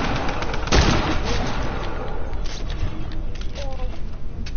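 Sniper fire in a PS4 shooter game, with one sharp loud shot near the start standing out over a busy, noisy game soundscape, followed by fainter background effects.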